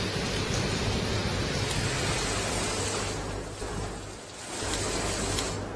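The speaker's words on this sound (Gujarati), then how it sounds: "અત્યારના હાલ ધોધમાર વરસાદ છે તે શરૂ થઈ ગયો છે" Heavy downpour in the rural Dhoraji and Jetpur area of Rajkot district makes a steady, dense hiss that swells and dips slightly, with no voices.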